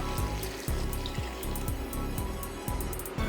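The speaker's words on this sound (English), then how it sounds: "Now I'm going to go ahead and cover that up with water," Water runs steadily into a pot of pork for Greek stew, a continuous splashing flow with a few soft clinks, no talking.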